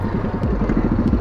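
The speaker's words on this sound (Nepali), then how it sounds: "बाइक अगाडि बढाउँदै हुनुहुन्छ" A motorcycle ridden forward by Manoj Rai on a rural road toward Siktel Tar in Bhojpur district, its engine a steady low mid-range drone with rhythmic pulsing throughout, close and continuous, no voices.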